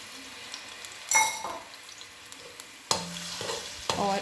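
Ginger garlic paste fries in oil in a pan, a steady low sizzle with a few louder bursts of stirring and scraping of the spatula against the pan.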